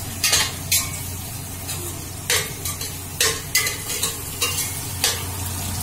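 Mashed tomatoes fry in a pan for a bitter gourd peel and yellow lentil dish, a low steady sizzle under a low hum, punctuated by about ten sharp spoon scrapes and taps against the pan.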